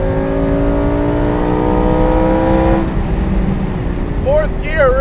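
Lamborghini Performante Spyder engine pulling hard in a long gear, a loud, rising, sustained drone that drops off as the revs fall, with a person talking over it afterward.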